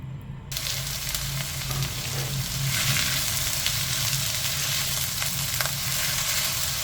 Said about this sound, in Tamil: எண்ணெய் நல்லா சூடான பிறகு நம்ம இந்த வெட்டி வச்சுருக்க வெண்டைக்காயை சேர்க்க போகிறோம்